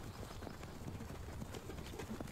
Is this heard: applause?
no